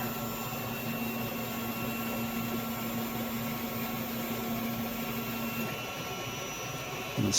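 An Elegoo OrangeStorm Giga 3D printer lays down its first layer with a steady, faint mechanical hum and whir that runs unbroken and alone, ending in a brief knock.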